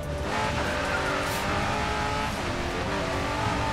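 A car drifting in the Racing Master game, with steady engine roar and continuous tyre squeal through a long slide. The sound is held at an even level throughout.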